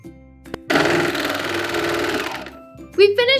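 A serger sewing machine chains off at the end of a seam on gathered fabric for a dress skirt, giving a loud, steady mechanical whir for about two seconds that then stops, with a voice speaking briefly afterward.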